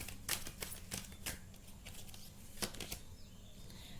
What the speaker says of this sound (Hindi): नो कॉन्टैक्ट में आपके लिए कुछ कार्ड्स निकालती हूँ